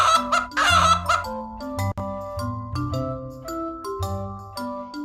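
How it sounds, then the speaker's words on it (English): A chicken clucking in short, throaty bursts near the start, heard close up over a bright, plucked musical melody that continues underneath. "Chicken, chicken."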